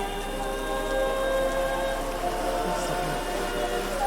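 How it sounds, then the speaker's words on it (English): Steady lashing rain from the video game Deluge Threnody, a dense continuous wash of falling water under tonal game music, with no talk. "The lashing rain as it soaked her winding obsidian hair."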